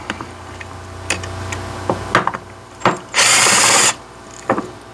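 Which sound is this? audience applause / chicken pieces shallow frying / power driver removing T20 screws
power driver removing T20 screws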